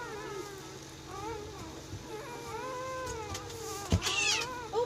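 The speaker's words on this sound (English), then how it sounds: "Oh, sorry, kitten. You squished your tail." A kitten cries in a busy indoor room where a dog is whelping, giving a string of close, plaintive, wavering mews with a louder bump near the end and no talking.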